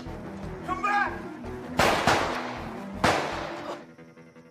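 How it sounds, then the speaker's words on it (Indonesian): Two sharp, loud pistol gunshot cracks a little over a second apart, each with a ringing tail, over a busy background of music and noise in a film. "perempuan ini jatuh seusai Thomas meletuskan pistol ke arahnya"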